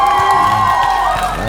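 A studio audience at a televised singing duel show cheers and applauds loudly and continuously, a dense wash of clapping and whoops close up with no pause.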